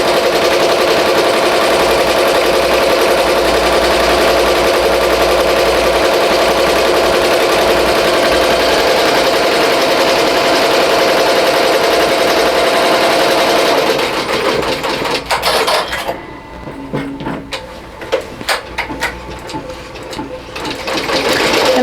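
A BAI Mirror 1501 embroidery machine runs a bean stitch around a sketch design on a T-shirt, a loud, steady rapid needle clatter that turns choppy and intermittent near the end.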